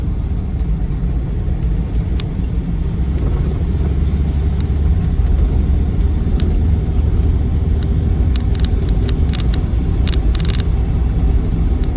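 A highly modified Land Rover Defender 110 with the 2.2 TDCi diesel climbs a hill. The engine holds a loud, steady low rumble throughout, with light cabin rattles and clicks over it and no talk.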